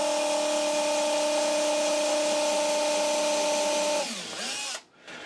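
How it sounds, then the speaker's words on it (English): A power drill with blue tape on its bit whines loud and steady while boring a mounting hole for a bracket, then slows and winds down to a stop near the end, with no talk. "I put some blue tape on the drill bit so I won't over drill through."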